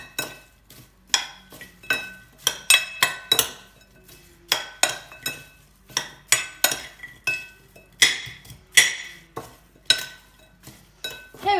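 Dry ingredients for an apple crumble cake being mixed in a bowl, with a steady run of scraping strokes and clinks of utensil against the bowl, loud and close.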